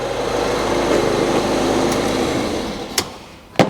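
A van bought from a salvage auction idles with a steady engine drone that fades as it is switched off, followed by a couple of sharp clunks.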